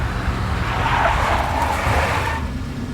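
A big black Mercedes in the Max Payne video game skids with a loud, sustained tire squeal over a rumbling engine for a few seconds, close and continuous, then eases off toward the end.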